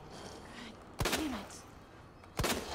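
Two sharp gunshot blasts about a second and a half apart, fired at the creature Carol in the video game Resident Evil 2 (2019), each loud and ringing out briefly over a quiet background.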